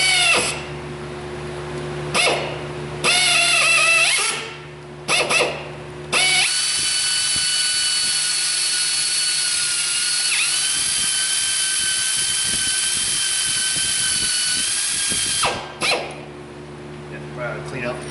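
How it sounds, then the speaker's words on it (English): A power drill bores into a stripped cylinder head bolt on a Toyota RAV4 2AZ-FE engine, whining loudly and steadily at close range through a long continuous run after several short starts and stops. "We got to drill all the way up to that line there."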